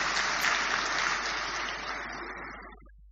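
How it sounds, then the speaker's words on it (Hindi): Loud, dense clapping from a spiritual gathering audience, a steady wash of applause that slowly thins and fades out over a few seconds. "ताली बजाओ जोर से"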